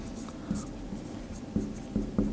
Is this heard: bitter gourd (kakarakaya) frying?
no